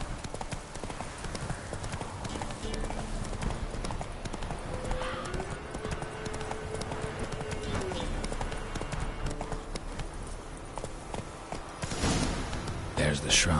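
Roach the horse runs in The Witcher 3, hooves pounding in a fast, continuous gallop close up, with background game sounds and a louder clatter near the end.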